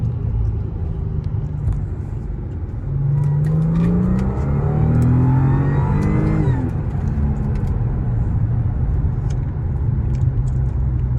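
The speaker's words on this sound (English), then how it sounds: "you can hear the blower a lot more than the exhaust. Then if you slow down, drop a couple gears." An Audi A6 engine with a Magnaflow cat-back exhaust rumbles, then revs rise and fall through a couple of downshifts, a supercharger whine rising over the exhaust burble, close and loud.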